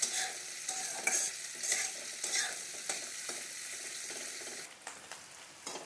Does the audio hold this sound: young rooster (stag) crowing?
no